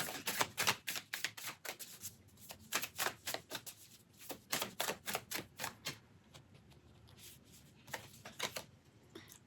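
A deck of oracle cards riffled and shuffled in rapid, crisp bursts of flicking and slapping, close and fairly quiet, pausing briefly before more shuffling as cards are drawn.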